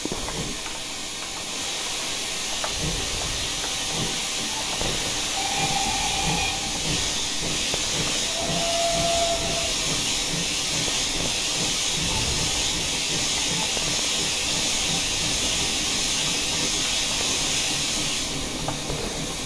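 Safety valves on a GWR tank steam locomotive vent pressure in Train Simulator Classic, a loud continuous hiss of escaping steam over faint clanking, steady throughout with no voices.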